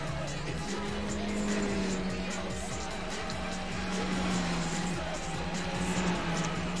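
A VW Golf IV GTI races in Gran Turismo 4 and its tires squeal under a steady engine drone. The tire noise is loud and continuous, with wavering pitches running through the clip.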